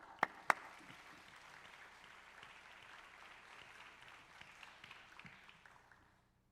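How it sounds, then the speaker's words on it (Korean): A church youth-service congregation applauds softly to welcome a pastor released from detention in North Korea. The faint, even clapping follows two sharp knocks at the start and fades away to silence. "평양보다는 박수 소리가 좀 약하네요"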